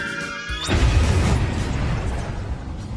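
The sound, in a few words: bomb explosion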